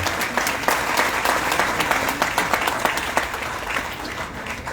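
Audience at a felicitation event for a member of parliament claps loudly and steadily, a dense burst of many hands with crisp individual claps standing out, continuing alone throughout.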